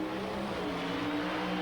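A pro stock drag racing car of about 1,000 horsepower on gasoline launching at the 1991 NHRA Winternationals gives a brief, continuous, loud engine roar with a steady droning pitch and no talk over it.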